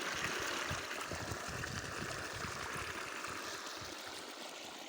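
Irrigation water streams under pressure into a sesame field, a continuous rushing, gurgling flow heard fairly close and steady throughout, with no voices.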